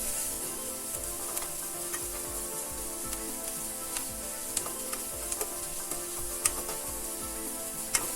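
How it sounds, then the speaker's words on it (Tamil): Chopped onions sizzle steadily in a pan over a medium flame on a stove, a continuous frying hiss with small crackles and occasional stirring clicks, close and even throughout. "ஆனியனை பொடி பொடியாக கட் பண்ணி ஆட் பண்ணிக்கலாம். நம்ம ஸ்டவ்வை வந்து மீடியம் ஃப்ளேமில் வச்சு இது எல்லாத்தையுமே வதக்கிக்கலாம்"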